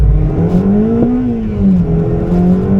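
An 8th-gen Honda Civic coupe swapped from an R18 to a K24 engine accelerates hard, its loud, close engine note climbing steadily in pitch with a continuous rough growl.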